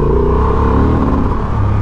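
A Honda Transalp 750 (XL750) motorcycle in gravel mode with the rider standing revs hard in second gear, its rear wheel spinning on dry gravel, a loud continuous engine roar and rumble close by.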